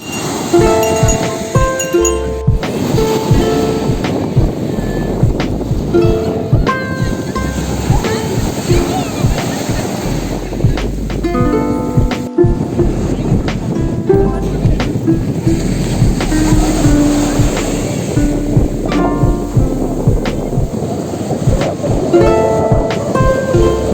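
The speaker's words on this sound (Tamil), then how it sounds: "அலை வருதா?" Evening crowd noise at Marina Beach in Chennai, with people talking loudly over a constant roar of ocean surf and a continuous low rumble of waves.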